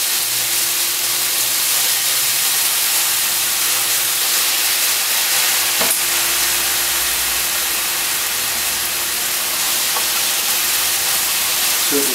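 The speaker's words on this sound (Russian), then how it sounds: "Все это еще раз хорошо перемешиваем. Все вместе с соевым соусом." Veal and vegetables stir-frying with soy sauce in a Sichuan-style pan, a steady broad sizzle and hiss filling the whole stretch with a faint low rumble and a brief clatter near the middle.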